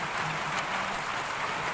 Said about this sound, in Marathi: अजून सुरूच आहे पाऊस।